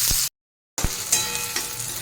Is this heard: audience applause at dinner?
no